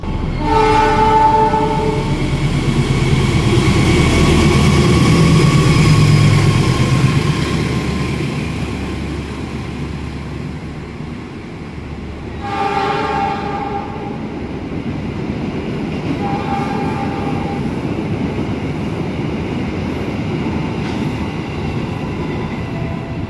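An Argo Anggrek passenger train passes close by on the Jakarta–Surabaya line, a loud sustained rumble of wheels and cars with several horn blasts, the roar swelling early and then easing into a steady rolling clatter.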